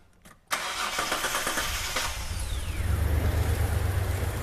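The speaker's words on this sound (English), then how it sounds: "Let me start the car." A Hyundai Terracan with a misfire cranks briefly and catches, then settles into a steady, close idle rumble that continues to the end, with no talking.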